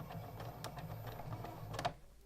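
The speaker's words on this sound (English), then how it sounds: "Do a back stitch. And then continue to sew." A domestic sewing machine stitches a French seam with a brief back stitch, giving a soft, close, continuous mechanical whir with faint ticking before it stops near the end.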